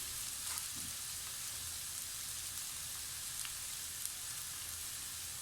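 Onions and ground beef sizzling in a pan for lasagne, a steady faint hiss of frying with a few soft stirring scrapes, no voices.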